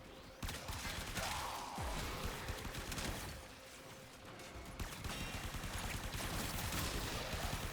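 The Supra Vandal gun in Warframe fires continuously in a dense, rapid stream of shots that stays steady and fairly loud, briefly thinning partway through before resuming.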